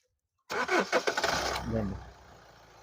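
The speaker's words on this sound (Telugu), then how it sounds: "ఒకసారి ఇంజన్ స్టార్ట్ చేసుకొని చూసుకుందాం" A 2015 Hyundai Santa Fe starts up: silence, then a loud cranking burst with rhythmic pulses as the engine catches, settling within about two seconds into a quieter steady idle.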